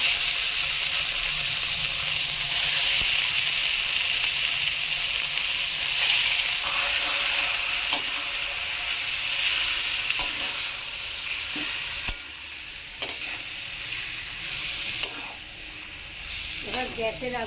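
Raw mango pieces sizzle in mustard oil in a kadai over a low gas flame, with a steady bright frying hiss throughout and occasional scraping clicks as they are slowly stirred.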